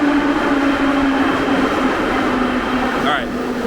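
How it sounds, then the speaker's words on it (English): A metro train arrives at a 1950s–60s Soviet-style station, a loud, steady rumble and hum with a sustained tone and a brief squeal near the end. "our train shows up just as we arrive here"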